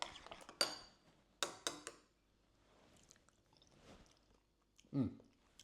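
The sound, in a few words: chewing while tasting homemade ranch dip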